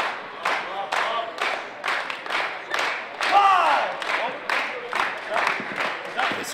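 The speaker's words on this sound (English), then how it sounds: "This crowd is jacked." Arena crowd at a women's extreme wrestling show cheering and clapping in rhythmic waves, with loud surging roars and a few shouted voices rising above the din throughout.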